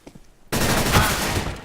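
After a brief quiet moment, loud, rapid gunfire from Counter-Strike erupts and continues as a dense burst of shots.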